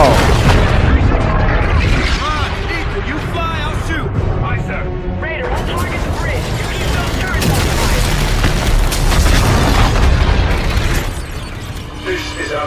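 Heavy booming explosions and rapid bursts of fire roll on without a break as a space fleet pounds a super carrier in Call of Duty Infinite Warfare, loud and dense with voices woven through.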